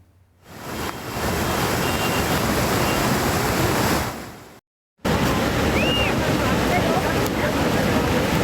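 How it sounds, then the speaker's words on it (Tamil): Heavy flooding river water rushing during relentless rain in Jammu and Kashmir, a loud, steady roar of surging water that drops out briefly before resuming just as strong. "ஜம்மு காஷ்மீர் மாநிலத்தில் தொடர்ந்து பெய்து வரும் கனமழையால் ஆறுகளில் கடுமையான வெள்ளப்பெருக்கு ஏற்பட்டிருக்கிறது"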